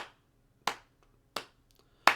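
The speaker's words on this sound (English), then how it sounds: "I'm going to go ahead and clap the quarter notes" Hands clap out steady quarter notes, a few crisp, close claps evenly spaced in a slow, even pulse, with silence between each one.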